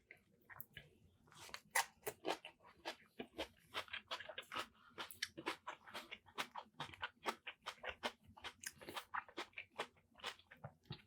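Crunchy coleslaw chewed up close, a steady run of quick, crisp bites and crunches that comes and goes in rhythmic bursts for several seconds, fairly quiet, with no talking over it.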